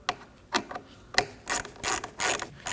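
Hand ratchet snugging the window motor bolts into plastic on a 2011-2016 Kia Optima rear door, a series of quick clicking bursts of varying length, close and fairly loud, with no voices.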